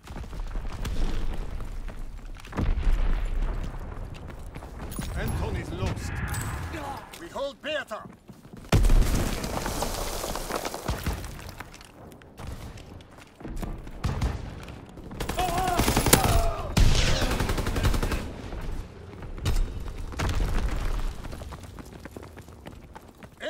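Battle din from Call of Duty: WWII during a Fritz X bomb mission: repeated heavy explosions and bursts of gunfire, loud and dense across the whole stretch, with some voices in the mix.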